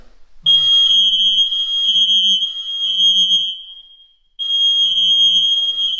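A smoke detector set off with aerosol tester spray sounds a loud, shrill, steady electronic alarm tone that runs for several seconds, stops briefly, then resumes, with a low hum underneath.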